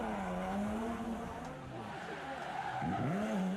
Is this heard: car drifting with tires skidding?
yes